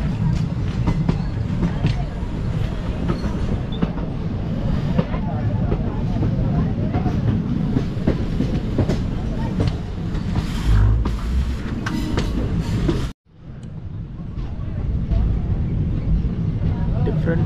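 A DEMU diesel-electric multiple unit train pulls into Needamangalam junction station, giving a steady, loud rumble of rolling wheels and engine with faint clatter, and a brief drop to quiet near the end.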